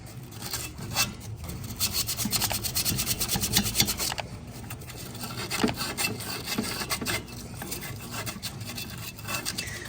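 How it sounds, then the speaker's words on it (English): Steady scraping and rasping of sanding on a refrigerator's metal pipe, continuous with rhythmic strokes, fairly close and moderately loud, no talking. "You guessed it, ritualistic sanding."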